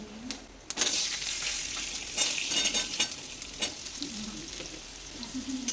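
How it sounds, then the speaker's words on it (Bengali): Potatoes frying in hot oil with bay leaves, dried chilli and panch phoron, a loud close sizzle with spatula scrapes and stirring clatters throughout, no speech. "আলুটাকে লাল লাল করে ভেজে নেব"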